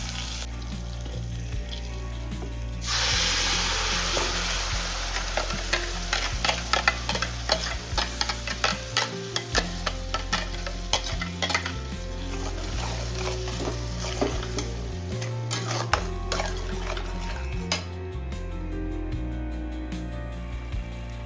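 Bhendi masala sizzles in oil in a pan, with frequent clinks and scrapes from a utensil stirring it. The frying runs steady and fairly close over low background music, then fades near the end.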